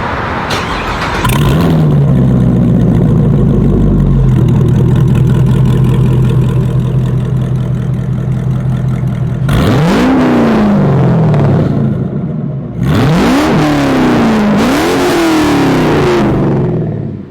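A Devel Sixteen hypercar engine starts with a loud roar and settles into a rumbling idle, then snarls through several sharp, high-pitched revs that rise and fall.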